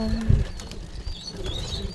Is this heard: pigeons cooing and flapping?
yes